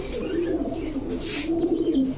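Pigeons crowded in a shop full of fancy breeds such as Teddy, Damascene and Budapest coo continuously, a thick layered burble of calls close by with a faint rustle in the middle.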